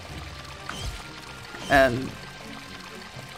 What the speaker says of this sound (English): Pour that out.